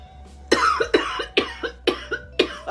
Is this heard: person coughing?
yes